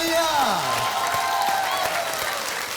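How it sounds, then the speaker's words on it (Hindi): Studio audience of a TV game show breaks into steady applause, a dense even clapping wash filling the space while a falling musical sting sounds over it at the start. "तालियां"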